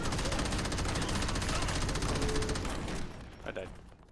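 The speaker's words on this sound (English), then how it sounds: "Those shotguns are painful." Rapid bursts of gunfire in the video game Crackdown form a dense, loud rattle of repeated shots for about three seconds, then taper off into a few fainter mechanical clicks and rattles.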